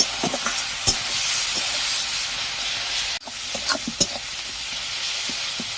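Garlic and cumin spice paste frying in a pan, stirred with repeated scraping strokes over a loud continuous sizzle, close up and with no talking.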